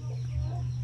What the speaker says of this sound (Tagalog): Inahing manok na may biguti.